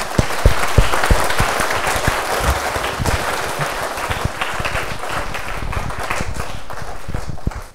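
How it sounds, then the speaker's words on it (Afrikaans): An audience gives a loud round of hand clapping for Luan, dense and lively with sharp individual claps standing out, sustained for several seconds before fading at the end. "Luan, kom ons gee vir hom 'n lekker hande klap"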